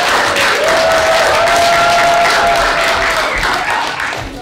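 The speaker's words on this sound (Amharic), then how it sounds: "እንደገና አጨብጭቡልኝ" An audience at an Adwa victory celebration in Ethiopia claps in sustained applause, a loud, even crowd wash with a thin high whistle-like tone running through it.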